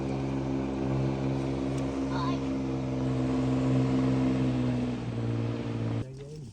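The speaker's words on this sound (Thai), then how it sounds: "มีเรือหางยาวมานะครับ" A longtail boat engine drones steadily nearby on a mangrove waterway in Trang, Thailand, a loud even hum that cuts off abruptly near the end.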